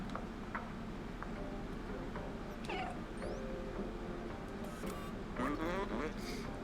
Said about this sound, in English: What if I meow? Will it cheer you up?